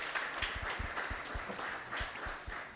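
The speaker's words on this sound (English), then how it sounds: "Can we give them a round of applause" Audience applause at a youth parliament sitting, a steady wash of many hands clapping at moderate distance that holds evenly throughout.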